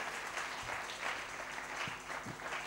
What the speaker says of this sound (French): Est-ce qu'on peut acclamer la parole?